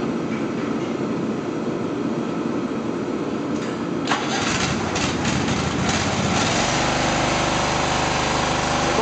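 A Toro 3100 mower's engine cranking with a rapid starter chug, then catching and settling into a loud, steady running drone, close by.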